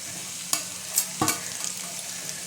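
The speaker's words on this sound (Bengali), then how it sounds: "এবার আমি চিংড়িগুলো দিয়ে দেবো" Shrimp dropped into a pan of frying potatoes for a Bengali aloo chingri dish, a few sharp clatters and spatters over a steady sizzle, close by.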